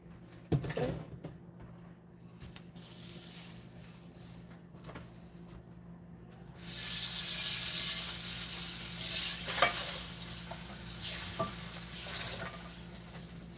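Salmon fries in a pan with a low, steady sizzle that jumps to a loud, bright hiss partway through, with a few scrapes and clinks over it.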